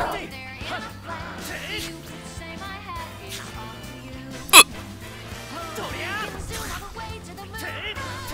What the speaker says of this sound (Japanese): 俺しゃっくり止まらんねん。